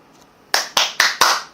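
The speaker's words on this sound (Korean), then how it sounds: "박수 응원합니다." Four sharp hand claps in a quick, even rhythm, close and loud against a quiet background.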